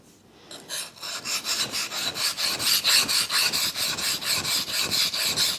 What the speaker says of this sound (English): Now I'm pushing the burr around the other side.